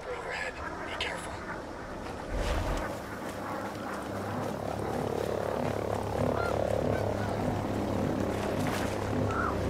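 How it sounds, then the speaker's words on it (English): Helicopter flying overhead in the Ghost Recon Breakpoint video game, a steady loud rotor drone that builds and holds throughout, with frog-like croaking and a voice over it. "Chopper overhead."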